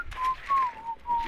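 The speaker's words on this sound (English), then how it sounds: "Who's whistling?" Someone whistles a short wavering tune during a Rainbow Six Siege match, a few thin sustained notes with brief gaps, clear and fairly close, with faint game noise underneath.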